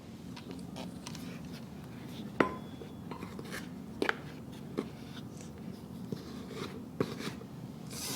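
Baking mix for a gingerbread master mix is spooned into a measuring cup and scraped level, heard as soft scraping and light clinks of utensil against cup that repeat quietly and unevenly.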